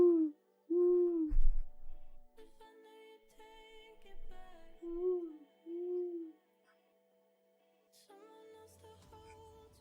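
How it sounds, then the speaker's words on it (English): Owl hoots come in a rhythmic series of soft, rounded calls, and quieter tonal sounds fill the gaps between them. "I think I scared the owl. I'm sorry, owl."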